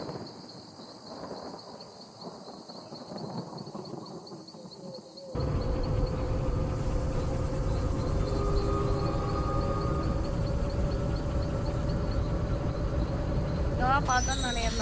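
A loud, sustained train horn blares continuously from close by after a few seconds of quieter background noise with voices.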